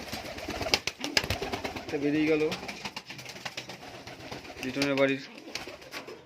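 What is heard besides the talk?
pigeons cooing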